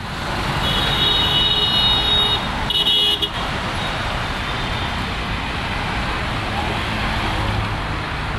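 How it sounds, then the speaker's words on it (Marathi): A vehicle approaches on a village road in the Konkan region with a steady, loud rumble of road noise and a brief horn toot partway through. "चला चला पटापट चला, गाडी आली."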